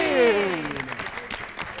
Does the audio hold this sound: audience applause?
yes